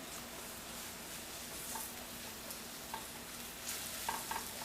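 A breakfast mixture of vegetables frying in a hot pan gives a soft, even hiss throughout, with a few faint clicks and taps of a utensil near the end, quiet and without talk.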